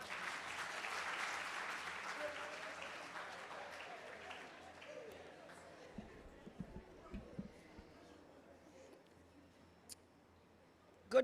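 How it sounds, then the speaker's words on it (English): Applause from the audience at a World Social Work Day symposium, loudest at the start and then thinning to a few scattered claps and faint room noise. "A round of applause."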